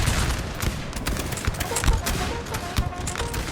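Continuous musket gunfire from a Napoleonic-era battle in the Napoleon Total War game, a dense rolling fusillade of overlapping shots with no clear gaps, loud throughout.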